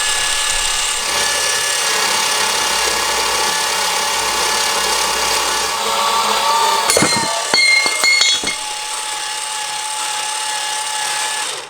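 A Harbor Freight bandsaw with a jig cutting steel for a Jeep TJ spare-tire hitch basket, giving a loud steady whirring hiss that holds for most of the span, then a few sharp metallic clinks as the cut finishes.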